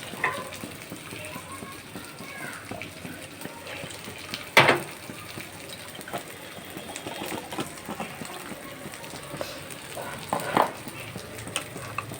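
Food frying in a pan after water is added, a soft steady sizzle with occasional scraping stirs and a couple of sharper clinks, moderately quiet throughout.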